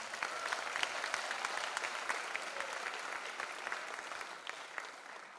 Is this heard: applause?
yes